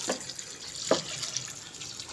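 Water splashes from a tap into a cooking pot holding lentils and rice for chicken haleem, a steady running fill with a couple of brighter splashes, close and alone without talk.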